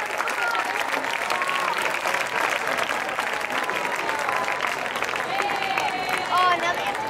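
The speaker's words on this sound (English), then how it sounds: "Clap along as they play the Shaker Heights High School fight song." A large crowd claps along in steady rhythm to the Shaker Heights High School fight song played by massed bands, dense continuous applause with band music and crowd noise throughout.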